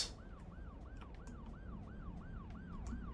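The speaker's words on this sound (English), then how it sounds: "This ambulance is stuck in..." An ambulance siren in the city-building game Cities Skylines 2 wails in a steady, repeating up-and-down cycle of about two rises per second, continuous over low traffic rumble.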